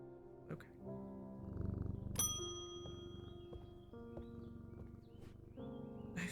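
A cat purrs in the video game A Shop of Oddities, a low soft rumble swelling near the middle of the clip beneath chiming bell-like game tones and music.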